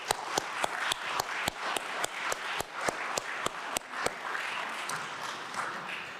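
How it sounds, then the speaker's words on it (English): At a digital literacy launch event, a small audience claps, with sharp, evenly spaced individual claps standing out over a softer patter of applause that thins out toward the end. "So let's give them a round of applause."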